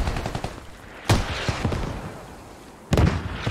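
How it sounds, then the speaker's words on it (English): Heavy gunfire in the Squad video game on the Gorodok map, a shot striking the rear of a Bradley armored vehicle: two sharp loud impacts about two seconds apart over a continuous bed of distant battle noise and rattling fire. "Perfect shot onto the rear of the Bradley."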